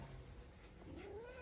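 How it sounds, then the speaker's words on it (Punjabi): A cat gives a single faint, drawn-out meow that rises and falls in pitch, heard quietly over a low background hum with no talking. "ਇਹਦੇ ਕੋਲ ਆਪੇ ਬਿੱਲੀ ਆ ਗਈ"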